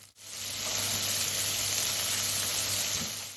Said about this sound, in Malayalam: ഇനി അതിലേക്ക് അരിഞ്ഞ് വെച്ചിരിക്കുന്ന ഓണിയൻ ഇട്ട് മൂപ്പിച്ചെടുക്കണം